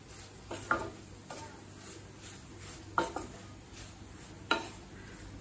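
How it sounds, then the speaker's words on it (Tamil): Bread frying in ghee and being turned with a spoon in a pan for bread halwa. Three sharp spoon clicks against the pan stand out above a soft, steady sizzle, with no talk. "பிரெட்டை நெய்யிலே நல்லா வறுத்துக்கலாம்"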